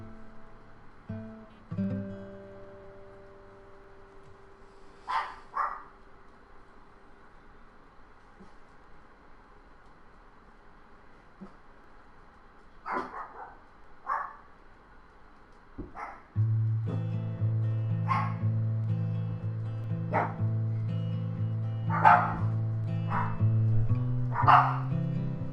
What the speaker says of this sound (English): the dogs are going crazy